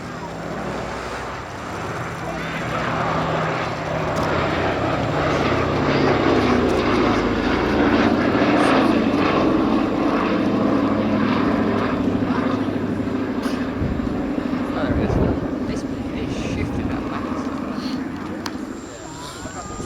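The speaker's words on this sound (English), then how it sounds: "Final pass from the B-17." A Boeing B-17 bomber makes its final low flypast at an air show, smoke trailing from two engines, the deep droning roar of its piston engines and propellers swelling and holding loud throughout as an announcer talks over it.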